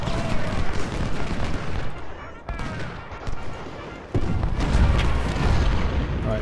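Dense musket volleys and booming artillery fire roll on continuously through a Civil War battle in Ultimate General: Civil War, the gunfire loud and layered, with a few sharp breaks in the barrage.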